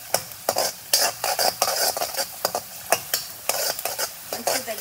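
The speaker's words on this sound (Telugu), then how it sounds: "గార్లిక్ వేసేసుకుంటున్నాను. బాగా మంచిగా రెడ్గా క్రిస్పీగా ఫ్రై అవ్వాలి." Chopped garlic frying in a pan toward red and crispy, for burned garlic rice. A steady sizzle is broken by frequent sharp scraping strokes of a spatula in an uneven but regular stirring rhythm, close and fairly loud.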